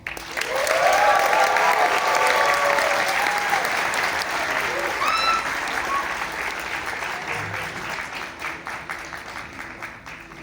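A concert audience applauds and cheers to welcome a singer on stage, loud sustained clapping with whistles and shouts that slowly tapers toward the end.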